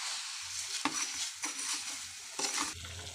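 Vermicelli in boiling water in a kadai for semiya payasam, with soft bubbling and several sharp scraping stirs of a spoon against the pan, heard close with no talk.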